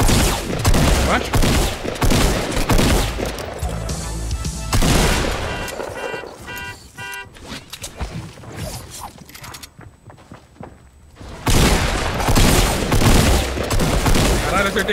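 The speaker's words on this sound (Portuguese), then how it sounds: "Acertei 7 tiros nele" Rapid bursts of gunfire in Fortnite, heavy volleys at the start and end with a quieter stretch of scattered mechanical sounds between, fairly loud.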